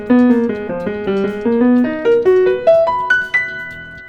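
A jazz funk piano melody from the A part of a tune, a clear solo line of about a dozen distinct notes climbing steadily upward, played alone and close without talk.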